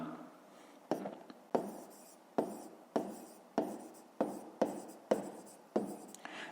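A pen scratches on paper as numbers are written out for a fifth-grade math exercise, with short strokes and taps repeating in an uneven rhythm, close and quiet.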